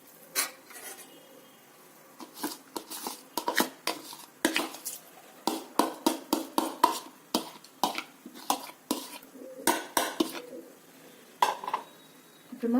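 Soaked rice tipped into a cooking pot for kara pongal, giving a run of close, sharp metallic clinks and scraping knocks of a utensil against the pot, spaced irregularly, with no talk.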